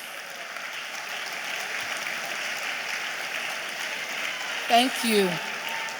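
Audience applause at a 2017 COWSOL ceremony, a steady broadband clapping wash that holds throughout, with a brief spoken thanks near the end.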